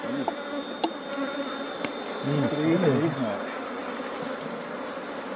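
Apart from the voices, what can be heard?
honey bees buzzing around an opened beehive super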